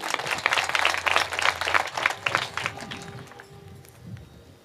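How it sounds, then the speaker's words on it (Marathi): At a kirtan, an audience claps in a fairly close, fast burst of overlapping hand claps that dies away toward the end and leaves a quiet room. "टाळी वाजवा एकदा जोरात"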